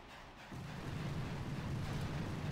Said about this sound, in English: We're going to do a barrage right in here.